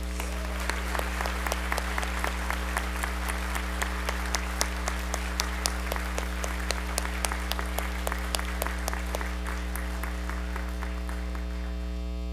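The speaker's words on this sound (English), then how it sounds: "Please join me in applauding these outstanding seniors." An audience at an academic honors day ceremony claps for outstanding graduating seniors. The applause is scattered and moderately loud, with individual claps distinct over a steady electrical hum.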